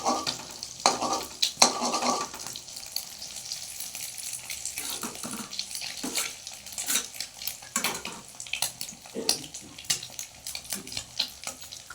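An egg omelette fries in a pan, with steady broadband sizzling and scattered clinks and scrapes of a utensil against the pan throughout, close and fairly faint, and no voices.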